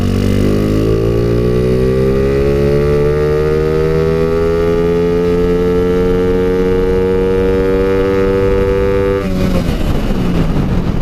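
A Honda Wave 125 motorcycle fitted with upgraded intake and exhaust valve springs is ridden, its engine note loud and close, climbing steadily in pitch through a long rev before dropping off near the end.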